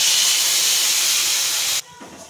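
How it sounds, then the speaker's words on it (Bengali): A yogurt mixture poured into hot oil with cloves and bay leaves gives a loud, close, steady hiss that cuts off abruptly after nearly two seconds, followed by faint quiet sizzling. "এবার দিয়ে দিচ্ছি দইয়ের মিশ্রণ।"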